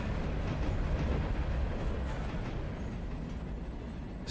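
Runaway train in the Railroader video game rolling along the track, a steady broadband rumble of wheels and cars that holds at an even, loud level throughout with no one talking.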